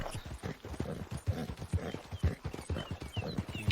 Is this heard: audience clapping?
no